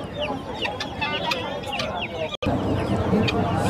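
Birds at an open pigeon market at Puran Bazar in Sreepur, Gazipur, cluck and call in a dense, constant flock sound with a brief dropout, amid crowd noise.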